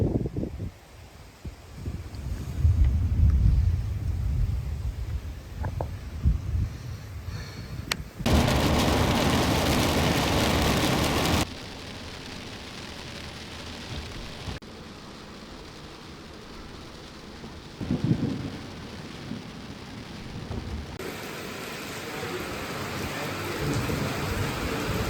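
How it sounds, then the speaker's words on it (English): Steady rain pours with rumbles of thunder, the downpour surging loud in bursts and easing to a softer patter between them. "it's raining"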